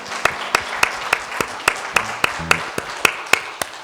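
A church congregation claps in appreciation for the men who serve each week, a rhythmic run of a dozen or so sharp, evenly spaced claps at moderate level under a faint low hum.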